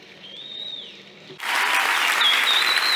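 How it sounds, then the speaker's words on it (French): Audience applause in a hall, starting abruptly after a quiet stretch and then holding dense and steady at close range until the end, with a faint high whistle-like tone over it. "Voilà l'applaudissement du public"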